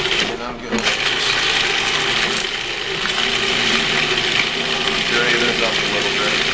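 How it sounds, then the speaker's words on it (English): A food processor purees fresh tomatoes, whirring continuously at a loud, even pitch, a steady motorized grind with a brief dip near the start. "we're just gonna drop them in the food processor"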